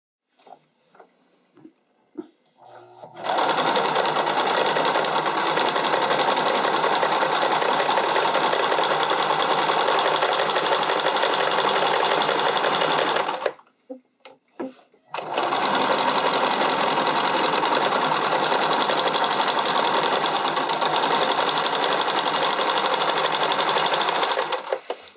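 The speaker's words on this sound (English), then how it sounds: "just let the machine pull it through" A sewing machine runs steadily in close-up as it zigzag-stitches a lettuce edge hem on stretchy spandex, a dense continuous whir lasting about ten seconds, a brief pause, then another long even run.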